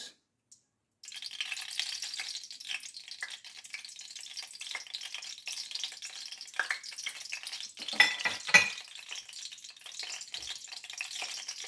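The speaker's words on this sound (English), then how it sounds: "So I'll be adding my oil, the one I got from the fish I fried. So I'll be adding it into my pot." Used fish-frying oil heats in a pot for carrot and bean stew, giving a steady close crackling sizzle after a brief silent start, with a louder burst of spitting around the middle.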